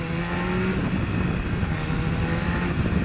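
A BMW S1000RR motorcycle accelerating with a quick shifter gives a loud, close engine drone with a rising tone and a brief pitch drop as it shifts up.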